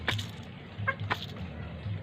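A few short, quiet clucks from hens over a low outdoor rumble.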